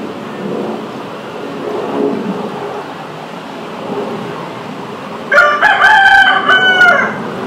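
A rooster crows loudly near the end, rising over a steady murky background rumble.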